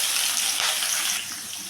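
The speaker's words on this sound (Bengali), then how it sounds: "এখন আমি দেব কাঁচা আলুটা।" Raw potato pieces drop into hot cooking oil that already holds black cumin seeds, giving a steady, close hiss and sizzle that eases off slightly toward the end.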